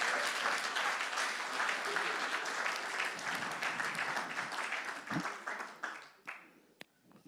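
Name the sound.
congregation applauding in church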